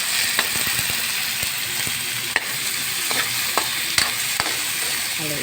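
Onions and tomatoes fry in a pan for a sardine ginisa, a constant close sizzle under repeated clicking, scraping stirs of a utensil against the pan, with no voices.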